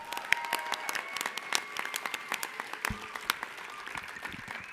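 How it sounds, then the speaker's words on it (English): A small audience at an Oxford House gathering gives scattered, fairly faint applause, distinct claps spaced irregularly against a quiet room with a faint tonal hum. "Can we get another round of applause for Veronica?"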